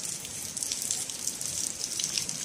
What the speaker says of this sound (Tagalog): Shower sa tubo.